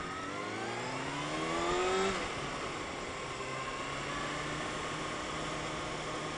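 A 2020 Kawasaki Ninja ZX-6R (636) motorcycle rides along, its exhaust a smooth, moderate engine tone that climbs in pitch under acceleration, then drops and settles into a steady cruise beneath heavy wind rush.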